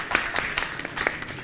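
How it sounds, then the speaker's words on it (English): At Convergence India 2019, an industry conference on IP migration, an audience claps briefly in a short, fairly faint scatter of individual claps. "Can we have a round of applause?"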